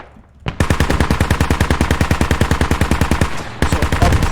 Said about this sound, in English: that gun sound from the vehicle right here